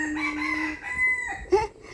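A rooster at a rural garden home in Chanthaburi, Thailand, crows nearby in a long, wavering call, followed by a short, sharper squawk.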